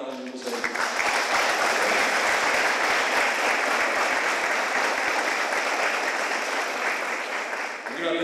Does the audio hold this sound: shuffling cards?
no